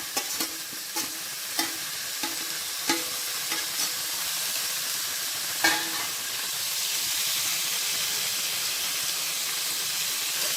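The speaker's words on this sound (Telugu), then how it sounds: "ఇప్పుడు మనం ముందుగా మిక్స్ చేసి పెట్టుకున్న ఈ మటన్ కూడా ఇందులో వేసేయాలి" Mutton frying in a pan with ginger garlic paste, a steady loud sizzle and hiss with several clanking stirs of a spoon early on, no voices.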